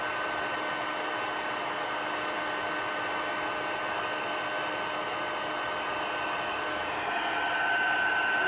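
A heat embossing tool blows hot air over a Christmas card with a steady, loud fan whoosh that continues unbroken and swells slightly at the end, with no talking.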